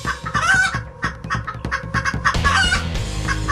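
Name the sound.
chickens clucking, cartoon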